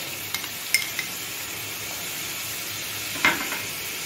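Garlic, ginger and green chili paste sizzle steadily in a pan after browned onions, with a few sharp clinks of a spoon stirring against the metal; no talking.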